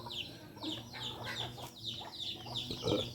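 Hens cluck in a fenced chicken pen, a series of short, repeated clucks and squawks at close to moderate distance over faint background noise.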